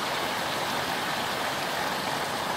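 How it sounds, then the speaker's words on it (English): A river runs beside a walking path at Franz Josef, giving a close, steady broadband rush of flowing water that holds constant with no break. "we're basically going to walk alongside the actual river now"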